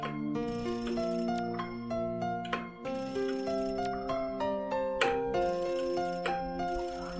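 Phone-ringtone remix music from the video game Yume 2kki plays steadily and loud, a bright electronic melody of repeating ring-like chimes over a bass line, with no talk.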